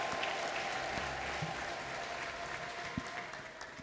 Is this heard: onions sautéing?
no